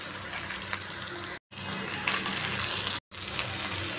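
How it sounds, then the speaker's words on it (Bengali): Potatoes dropped into hot oil in a pan with fried onions, giving a steady loud sizzle and hiss that cuts out twice in brief gaps. "এবার আলুগুলো দিয়ে দিচ্ছি।"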